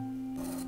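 A thin-bladed saw cuts into a flower branch while shaping it for ikebana, giving one short, close rasping stroke over a steady low hum.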